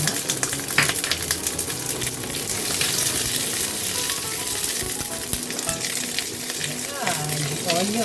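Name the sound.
white onion frying for Thai green curry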